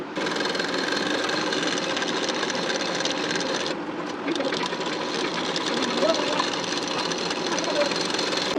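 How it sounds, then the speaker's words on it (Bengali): A sewing machine stitches nylon fabric along a straight marked line for a blouse front, a fast continuous whirring run with one brief pause, loud and close. "এখন এই দাগ বরাবর করে সেলাই দিয়ে নেব"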